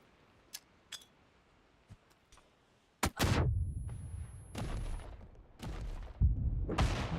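A grenade explosion in PUBG: after a few faint clicks and distant shots, a sharp loud blast at about three seconds followed by heavy rumbling booms that swell and fade, with no talk in between.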